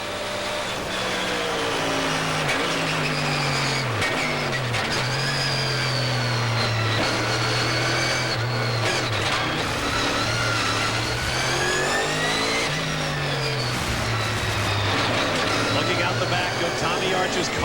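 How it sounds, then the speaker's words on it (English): A Chevy Camaro Trans-Am race car at the Long Beach street circuit accelerates hard through the gears, engine note rising and dropping with each shift, loud and continuous for the whole stretch, with commentary-like voices blended faintly underneath. "the slip-sliding Chevy Camaro."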